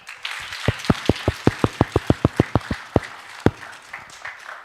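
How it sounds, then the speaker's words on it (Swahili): A small audience claps at a talk or memorial gathering: about a dozen sharp, evenly spaced claps in a rhythmic burst, then a couple of stray claps, fairly close and alone. "tumejua, tuwachapie makofi afadhali."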